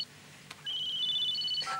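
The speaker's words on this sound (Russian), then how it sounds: "Никас, на телефон звонит." A telephone rings in an indoor scene from a crime drama, a steady electronic ringtone with repeating tonal beeps starting after a brief quiet moment, clear and fairly close.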